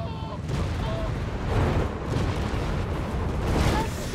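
German artillery shells burst in a Company of Heroes 3 battle, a dense run of booming explosions and rumbling impacts that rise and fall in waves under a commentator's voice.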